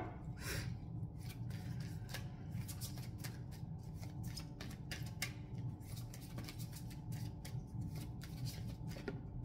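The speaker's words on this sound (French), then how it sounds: "Je vais prendre une dernière carte." Oracle cards are shuffled and drawn by hand, producing faint, quick papery flicks and soft rubbing taps in an otherwise quiet room.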